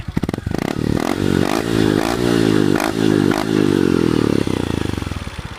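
A Honda Wave125i motorcycle with a 25mm titanium header and slash-cut exhaust tip revs hard several times in quick succession, each blip rising and falling, loud and close, then settling back toward idle.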